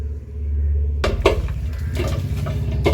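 A spoon scrapes and clinks against a bowl while Kashmiri chilli powder, fennel and salt are mixed for beef erachi choru, in several close, uneven metallic knocks and scrapes after a low hum.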